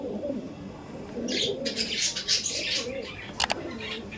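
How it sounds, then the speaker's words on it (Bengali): Kaldom pigeons in a loft give soft, low, repeated coos over a steady background murmur, with a few brief higher chirps and rustles. "পায়রাগুলো উঠছে না, মনে হচ্ছে ঝড় উঠছে"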